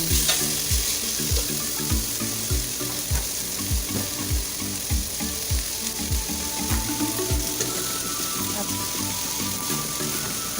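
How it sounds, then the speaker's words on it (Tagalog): Red chili and long green chilies sautéing in a pan for ginataang langka, a steady loud sizzle broken by repeated scraping stir strokes of a spatula throughout. "Yung sili pula at yung siling haba, igisa din natin."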